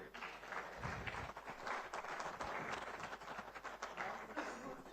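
Conference audience applauding in a hall at a Merck Foundation luminary event in Banjul, The Gambia; steady dense clapping throughout, moderately distant and fairly faint, with no clear speech.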